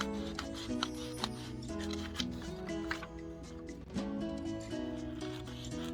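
Scissors cut through a paper window envelope with a series of short snips and crisp paper rasps, partly buried under loud tonal background music.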